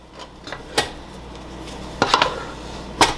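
Pizza dough is stirred in a pan with the heat switched off, giving a few sharp utensil clinks and knocks against the pan over a quiet background.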